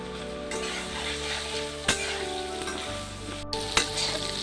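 Chickpeas frying in a pan with turmeric and salt for a handi chicken dish give a steady close sizzle, with a few sharp clinks of a spoon against the pan.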